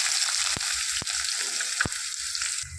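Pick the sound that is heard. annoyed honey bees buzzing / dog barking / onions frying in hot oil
onions frying in hot oil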